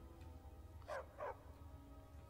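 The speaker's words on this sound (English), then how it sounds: "Oh, he found a dog." Two quick dog barks in Skyrim, one right after the other, moderately faint over a steady low game ambience with no voices.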